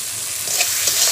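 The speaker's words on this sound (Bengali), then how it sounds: "মশলার মধ্যে দিয়ে দিলাম আগে থেকে ভেজে রাখা আলু ও ডাঁটাগুলো।" Pre-fried potatoes and vegetable stalks dropped into hot, oily spice paste in a pan, sizzling and frying loudly with stirring scrapes across a short burst.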